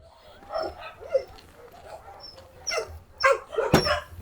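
Dogs at an abandoned-dog shelter bark and yip in several scattered bursts, close and moderately loud, with a sharper bark near the end and no talking.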